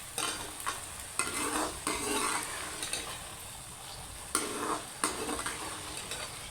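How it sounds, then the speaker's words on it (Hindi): Chopped onions and tomatoes fry over high heat for okra with onions, a close steady sizzle punctuated by repeated scraping strokes of a spoon stirring the pan. "इसे जब तक हिलाते रहें जब तक अच्छे से ये पक न जाए।"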